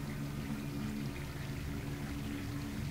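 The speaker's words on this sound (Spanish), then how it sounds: "Agua, un lago, una pequeña cascada," Water from a small waterfall splashes steadily into a lake in the video game Distraint, a continuous close rushing and pouring wash with no talk over it.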